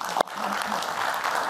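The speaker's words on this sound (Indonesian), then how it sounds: "Baik, kita berikan tepuk tangan." A television studio audience applauds during a talk show, a sustained wash of clapping that sets in after a sharp thump near the start and runs on steadily.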